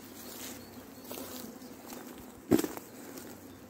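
A large honeybee swarm hums at an apiary as a faint, steady, diffuse buzz, with one brief louder knock or rustle partway through.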